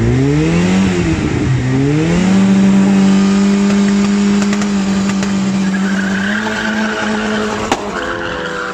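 A tuned VW MK2 engine racing against a Mark 1 Turbo, loud and close, revving with rising and falling pitch through gear changes alongside tire squeal, continuous for several seconds.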